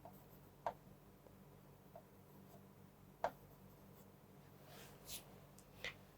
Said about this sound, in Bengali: লিখে দিই